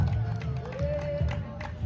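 Audience at a hot pepper eating contest in Easton, Pennsylvania, cheering and clapping as a contestant eats a Devil Serrano pepper, a lively mix of whoops and claps with a voice rising over the noise.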